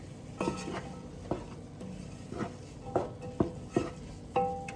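Flour being sprinkled into a pot and stirred into a roux for a veggie stew, with repeated scraping and knocking strokes of a spoon against the pot at an irregular pace, close and fairly quiet.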